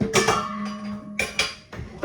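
Big metal pan handled in a home kitchen, giving several close clanks and knocks with short metallic ringing between them, with no talk.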